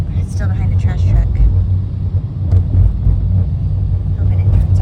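A car crawls behind a trash truck on the road into Sóller, Mallorca, with a steady, loud low engine rumble filling the cabin and a voice talking over it.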